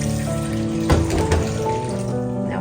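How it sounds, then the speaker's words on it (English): Water running from a kitchen tap into a saucepan as a steady, close splashing stream, with a few louder clatters and splashes, under continuous indoor background sound. "Open the tap and do like this."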